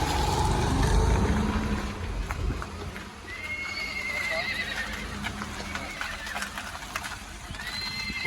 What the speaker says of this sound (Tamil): நாட்டுக்குதிரை பாருங்க சரியான சைஸ்ண்ணா